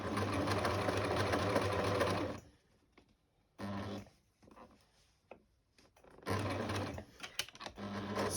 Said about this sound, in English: what we want to do is to sew this one here up to that join line there